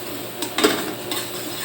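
Garlic and mushroom sautéing in butter for creamy pork mushroom, a steady close sizzle with a few quick utensil scrapes and taps against the pan, no talking.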